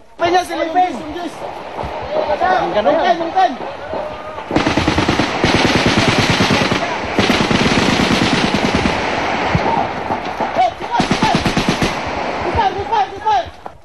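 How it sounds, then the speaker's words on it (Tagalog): Bursts of rapid automatic gunfire crackle loudly in a firefight with NPA rebels in the mountains, with sustained volleys broken by short pauses, and talking can be heard at the start and end. "Agad naman gumanti ng putok ang mga rebelde."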